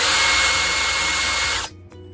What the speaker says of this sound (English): But chuck it up in the drill